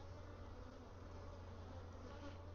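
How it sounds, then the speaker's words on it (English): Honeybees buzzing around a beekeeper as he mixes feed, a soft, steady drone of many insects hovering nearby, fairly quiet and unbroken. "a lot more bees were starting to visit me than usual"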